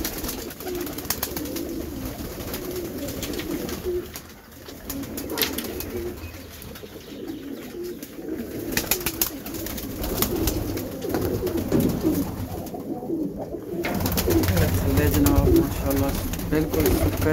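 Pigeons coo in low, soft repeated calls close by, mixed with rustling and handling noise and someone talking at times.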